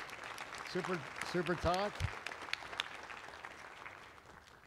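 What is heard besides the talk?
audience applause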